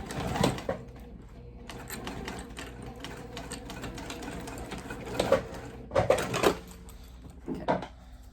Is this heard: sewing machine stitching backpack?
yes